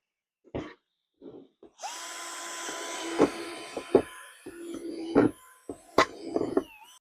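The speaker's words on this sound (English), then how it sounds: "we're going to drill holes, and plenty of them, in the bottom" A power drill whirs steadily, rising and dipping under load, punctuated by sharp cracks and clicks as it bites through plastic, with brief pauses.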